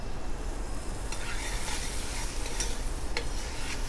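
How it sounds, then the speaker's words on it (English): Onions and the white part of leeks sautéing in a hot pan, a steady close sizzle with occasional stirring scrapes and clicks, no voices over it. "I'm adding my onions and leeks, the white part of the leek, and that will saute until it's tender."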